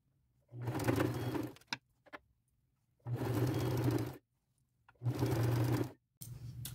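A sewing machine runs in three steady bursts of stitching as pleats are sewn into a nightgown, each run about a second long with quiet pauses between, close and clear with no talking.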